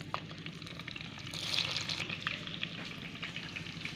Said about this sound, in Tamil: கடுகு பொரிஞ்சிடுது